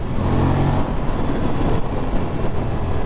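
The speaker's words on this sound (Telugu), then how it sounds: "సో గైస్ మీకు తెలిసినట్టు ఇది ట్విన్ సిలిండర్ ఇంజన్," An Aprilia RS 457 twin-cylinder sport motorcycle on a test ride gives a loud, continuous engine drone that rises slightly as it revs, with road noise and no talking.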